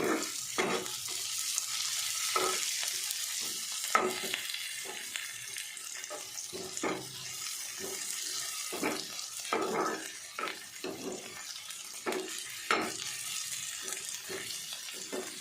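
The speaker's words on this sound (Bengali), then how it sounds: "এটাকে আমি বাদামি কালার করে ভেজে নেব" Chopped onion fries in oil in a pan until browning, giving a quiet, continuous sizzle broken by repeated soft stirring scrapes at an irregular rhythm, with no one talking.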